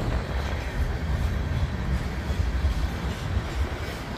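Freight train with Grain Connect Canada grain hopper cars rolling past in Burlington, a steady, loud broadband rumble with faint wheel clatter that holds evenly throughout, no voices.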